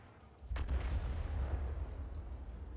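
Video-game artillery fire, shells striking an enemy vehicle: one sharp boom that rolls into a sustained low rumble, with faint background ambience.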